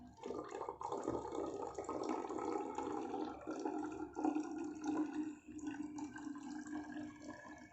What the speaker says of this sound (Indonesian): kita masukkan lagi 150 ml air